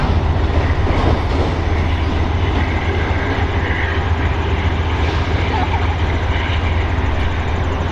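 A VIA Rail train made up of Renaissance cars rumbles loudly and continuously through Montreal's Gare Centrale, with a steady low roar, faint wheel clatter and an occasional brief squeal from the wheels.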